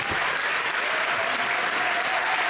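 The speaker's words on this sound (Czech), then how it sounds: "scéna vám tleská" An audience at an evening event applauds after a documentary screening, a steady, dense wash of clapping that holds at an even level throughout with no voices over it.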